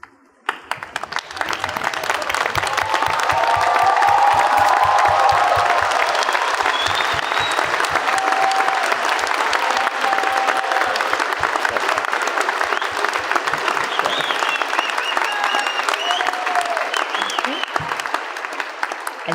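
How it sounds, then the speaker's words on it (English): A large convocation audience gives a long, sustained round of applause, many hands clapping loudly and continuously after a brief start, with faint crowd murmur and occasional whoops mixed in. "let's give them a round of applause"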